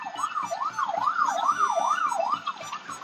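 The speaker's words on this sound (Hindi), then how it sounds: "यो त फायर ब्रिगेड है." A fire engine siren wails on a Hong Kong street, a steady up-and-down wail cycling about every half second, loud and close with traffic rumble beneath and no talk.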